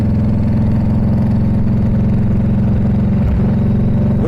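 A motorcycle engine idles close and loud with a steady, throbbing rumble, and a single brief exhaust pop lands near the end.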